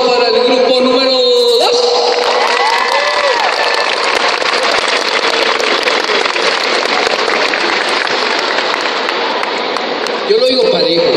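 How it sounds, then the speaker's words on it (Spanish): Dense, steady applause from an audience at a convention appearance, a broad wash of clapping that holds loud for about ten seconds with voices mixed in near the start and end. "aplauso para el grupo número dos"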